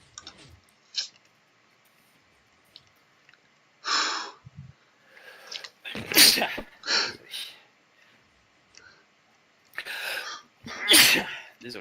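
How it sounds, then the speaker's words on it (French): A sneeze bursts out during a relaxed session of playing Skyblock, in a quiet room. It comes as a few sharp sneezes and snorts amid short breathy noises, with brief talk mixed in. "À tes souhaits."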